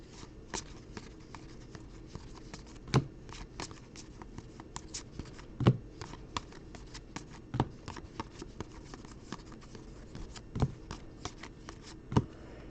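A deck of basketball trading cards shuffled and cut during a live card break: a continuous soft rustle of sliding cards punctuated by sharp, evenly spaced snaps every couple of seconds, close up with no talking.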